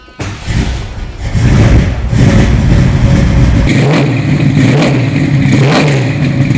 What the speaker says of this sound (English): I'll start the car, and you tell me what you think.